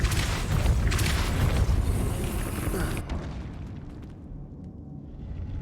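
A Depulso force spell goes off in Hogwarts Legacy as a loud, booming burst that fills the first few seconds, then cuts to a quieter rumble of game ambience.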